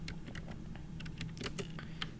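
Typing on a computer keyboard to name a USB drive volume, a quick, close series of uneven key clicks with no talk.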